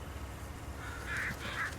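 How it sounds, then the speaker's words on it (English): Birds caw twice in quick succession in a farming video game, near a field being plowed and seeded, over the low, steady rumble of heavy farm machinery. "Oh, get out of the way, birds."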